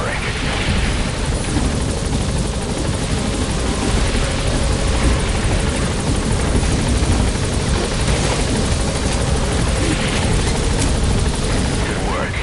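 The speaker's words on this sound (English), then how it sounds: "the chopper's touching down" Helicopter touching down in Metal Gear Solid V: The Phantom Pain, a loud, close, continuous rotor roar that holds steady throughout.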